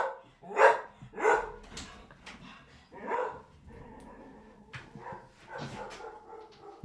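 A dog barks indoors in several loud, separate bursts a second or two apart, with some yips and whimpers between them and no speech.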